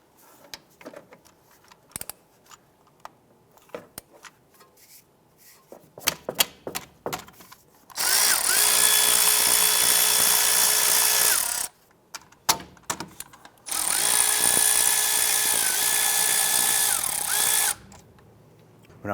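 A power tool removes the 12mm wheel bearing bolts on a 2001-2005 Honda Civic, with two loud sustained bursts of whirring driver noise separated by a pause, preceded by scattered clicks and clatter of handling parts.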